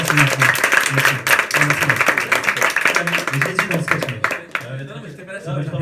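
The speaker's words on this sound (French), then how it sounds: "un tonnerre d'applaudissements pour Kavi." Applause from an audience at a stand-up comedy show in Paris, sustained and fairly loud clapping from a crowd that fills the room and fades slightly toward the end, with some voices mixed in.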